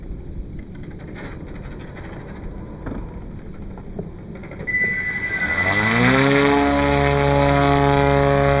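A Neuron Tango RC plane's propeller spins up, a rough noisy whoosh giving way to a loud, steadily rising motor whine that holds close and strong.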